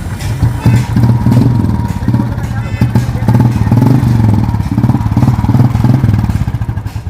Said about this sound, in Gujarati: petrol bullet complete petrol bullet લઈને આવી ગયા છીએ